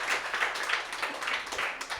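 An audience breaks into steady applause for a short stretch, many hands clapping at moderate distance with no talking over it.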